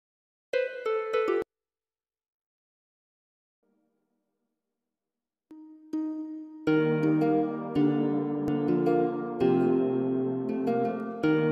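A plucked harp patch from the Morphine synth in FL Studio for a kompa, afro and zouk beat: a short phrase, a gap of near silence, then a fuller run of harp notes over a bed of sustained tones.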